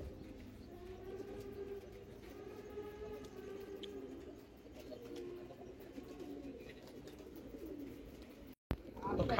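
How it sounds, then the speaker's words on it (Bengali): Khaki pigeons settle one by one onto a roof above a field in Lalbagh, their low cooing running steadily through the whole stretch over a constant outdoor background, with a brief dropout near the end. "কবুতর এক এক করে নামছে, এই উপরের চালে নামতেছে"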